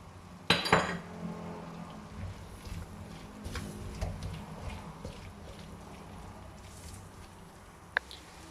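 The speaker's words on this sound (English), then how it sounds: "Now we add in some potatoes that I've cut." Cut potatoes go into a cooking pan for a canned sardine Indian recipe, with a sharp clatter of pieces against metal followed by quieter sizzling and scraping, and a brief clink near the end.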